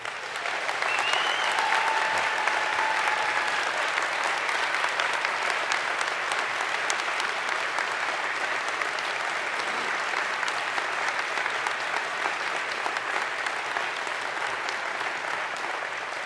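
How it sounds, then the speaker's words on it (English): Big audience applause at a university presidential installation ceremony, a dense sustained roar of clapping lasting many seconds at a steady, loud level with a faint whistle early on. "a big round of applause"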